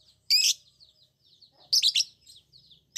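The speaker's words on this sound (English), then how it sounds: "Love bird." A lovebird chirps in short, sharp high-pitched bursts, two clear calls with softer twitters between, close and otherwise quiet.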